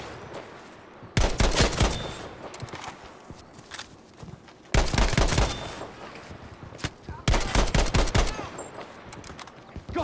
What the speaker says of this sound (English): I thought the artillery would do a little bit more there.